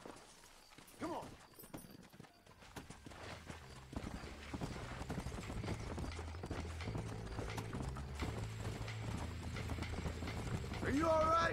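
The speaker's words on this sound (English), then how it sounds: "Damned horse." Horse hooves clip-clop steadily in the Western video game Red Dead Redemption, a continuous rhythmic walk that grows denser and louder, with game voices talking over it and a brief whinny-like sound at the end.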